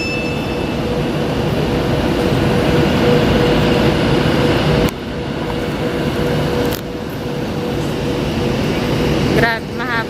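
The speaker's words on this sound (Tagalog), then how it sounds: "So ito yung train pero hindi kami sasakay dyan." A long train waits at a UK railway station on the line to London Euston, giving off a steady loud rumble and hum with a brief squeal near the end.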